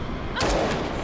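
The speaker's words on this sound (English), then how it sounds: "He shot her in the chest." A single loud gunshot fired in the Robocop: Rogue City video game, one sharp burst with a short decaying tail, heard alone with no talking.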